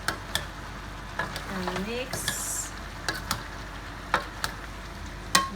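Pork and Asian string bean adobo, with Spam, stirred in a pan: a steady sizzle-and-frying hiss runs underneath while sharp utensil clicks and scrapes against the pan land at an irregular rhythm, close and fairly loud, with a brief spoken word early on.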